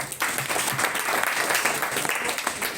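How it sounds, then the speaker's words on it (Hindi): A seminar audience on life insurance claps heartily in steady, dense applause that runs close and loud for nearly three seconds. "1 करोड़ की ताली बजाओ यार साहब के लिए।"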